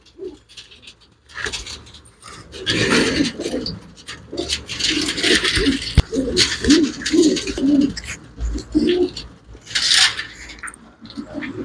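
Pigeons coo close by in a steady series of soft, throaty calls, overlapping one another, with occasional scuffing and rubbing noises between them.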